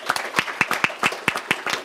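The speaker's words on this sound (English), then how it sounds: "please clap for her." Audience applause at a fashion law panel event, a small crowd clapping in a brisk, uneven rhythm with distinct sharp claps, fairly close and heard alone.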